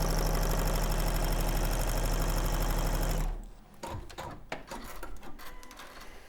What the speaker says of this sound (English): I'm going to take it and I'm going to sew along the number 3 line